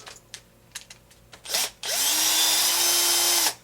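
A power drill strips out the four screws holding a Turtle Racing gear plate, giving a few short bursts before a long, steady, loud whir that runs for about two seconds up close.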